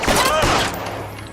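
Gunfire from a shootout in L.A. Noire, a rapid burst of loud close shots in the first half, fading into a lower rumbling tail with a faint voice underneath.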